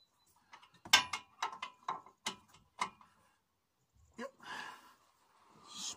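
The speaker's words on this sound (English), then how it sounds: "I just nip them up from the breaker bar." Breaker bar ratcheting as brake carrier bolts on a Ford Transit are tightened on site: a run of sharp clicks and clacks in short bursts, close and fairly quiet, followed by a couple of softer scraping handling noises.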